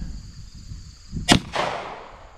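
A single sharp 9mm pistol shot with Norma Safeguard hollow point ammunition cracks loudly outdoors after quiet shuffling, followed by a brief echoing tail and impact noise.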